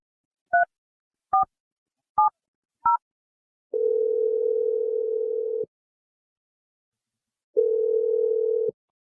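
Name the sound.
telephone dial tone while calling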